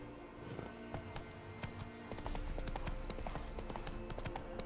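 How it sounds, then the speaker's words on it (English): Horse hooves clip-clop in The Witcher 3 as the horse Roach walks, a steady run of close, crisp hoof strikes carrying on without a break. "Ngựa của mình đây mà."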